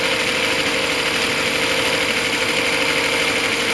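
A Reliant engine of the kind fitted to the Bond Bug runs on a bench test, jump-started from a battery and coil, giving a loud, steady, buzzing idle with constant vibration throughout and no voices.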